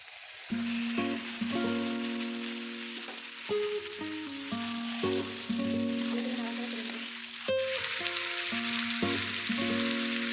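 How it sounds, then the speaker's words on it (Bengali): Marinated mutton hits hot fried onions in a pan, giving a loud, steady sizzle and frying crackle that runs through the whole stretch, with stirring and scraping clatter on top. "পেঁয়াজ ভাজা হয়ে গেছে, এখন ম্যারিনেট করে রাখা খাসির মাংসটা দিয়ে দিব।"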